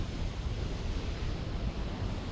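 Spray and rushing water close to the microphone at Havasupai Falls in Arizona, a dense continuous roar with heavy low rumble and wind buffeting, loud and unbroken throughout.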